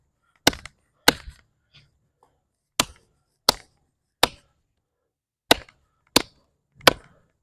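OdenWolf W-Machete chopping into wood outdoors: eight sharp, loud, separate impacts spaced roughly a second apart, each a crisp crack with a short decay, with quiet gaps between strikes.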